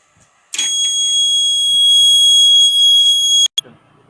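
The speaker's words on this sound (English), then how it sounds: "the buzzer will signal when the alcohol is detected" A motorcycle's alcohol detector buzzer gives a steady electronic tone with stacked harmonics, loud for about three seconds, then stops abruptly, followed by a brief second beep.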